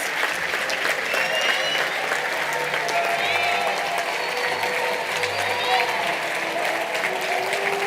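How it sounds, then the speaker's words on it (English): A crowd at a university graduation ceremony gives sustained warm applause for the new class of 2025, dense clapping filling the hall at an even level, with a voice faintly audible underneath. "We ask that you give a warm round of applause for the new class of 2025 from 27 nations."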